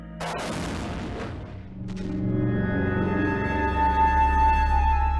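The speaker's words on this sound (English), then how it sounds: "Now, our second sled is ready to fire." A test sled fires with a sharp, loud boom that fills the opening moment, followed by a long rumbling decay and a sustained droning tone.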